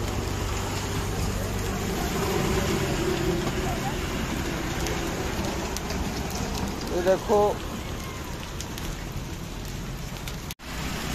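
Hailstones falling in a storm in Faridabad, a continuous soft clatter and patter on the ground, steady for the whole stretch, with someone briefly speaking over it.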